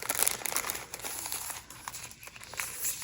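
A stationery package holding labels, envelopes and paper ephemera is pulled open up close, with a quiet, continuous crinkling of plastic wrap and paper and a few small tearing rustles.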